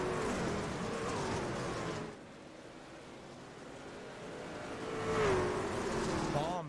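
Race trucks of the Midwest Racing League roaring around the Eldora dirt track, a loud engine drone that dips for a few seconds and then swells back as trucks pass, with distant, roar-filled ambience.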